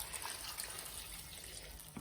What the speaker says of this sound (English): So I'm just adding the beef stock